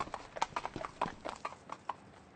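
Hooves of a horse pulling a buggy clip-clop in a quick, even rhythm, close and clear, with no voices over them.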